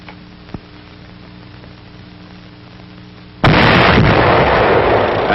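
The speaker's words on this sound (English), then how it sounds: "A tank destroyer goes into action." A tank destroyer's gun fires in street combat: after a low rumble with a faint thump, one sudden loud, close blast bursts in and stays as a sustained roar through the end.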